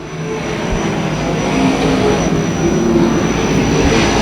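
Modified race cars in a Lucas Oil Modifieds event at Tucson Speedway make a steady, loud engine roar that holds with little change throughout.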